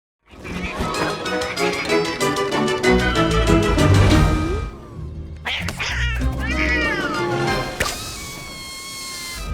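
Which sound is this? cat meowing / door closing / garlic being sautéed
cat meowing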